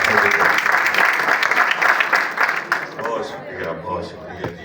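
A stage-event audience applauds actor Sohail Ahmed with dense clapping that is loud at first and then thins out gradually. A voice comes through toward the end.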